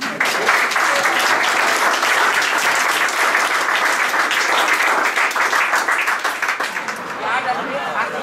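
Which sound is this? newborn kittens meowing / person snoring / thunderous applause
thunderous applause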